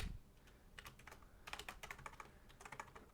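Keys on a computer keyboard are typed close up in quick, uneven bursts of light clicks while a chat message is entered, with no talking over them.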